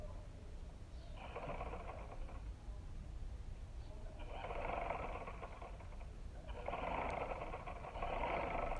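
A sewing machine stitching a rubber foam baby bootie runs in three steady whirring stretches with short pauses between them, close and moderately loud under a low background hum.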